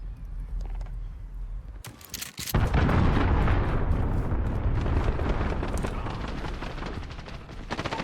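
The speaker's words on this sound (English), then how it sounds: "Allied cruise missile away" A cruise missile strike in a first-person shooter game erupts into a loud, rumbling explosion after a brief crackle of gunfire, then the roar and debris noise lingers for several seconds with scattered shots around it.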